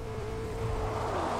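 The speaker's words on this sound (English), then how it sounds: "I also hear a car" Steady engine hum of a car driving in Fortnite, rising slightly in pitch toward the end, moderately loud with no talking.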